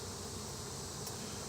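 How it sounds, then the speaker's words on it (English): A honeybee swarm hums around hive buckets, a soft, continuous buzzing drone that stays even and faint for the whole moment. "hopefully these bees will find their way in and march in there, and I may have a new swarm, a new colony of bees"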